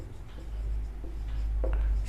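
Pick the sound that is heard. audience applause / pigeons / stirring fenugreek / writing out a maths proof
writing out a maths proof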